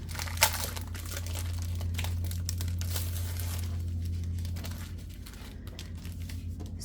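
Crinkly plastic packaging around a laser-cut scrapbook kit crackles and rustles close up as it is opened, with sharp crinkles over a steady low background hum.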